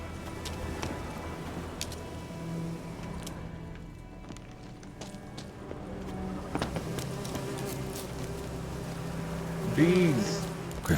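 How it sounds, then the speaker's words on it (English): Bees buzz around a griffin's nest in The Witcher 3, a steady insect drone under game ambience and sound effects, with a louder swell near the end. "Bees."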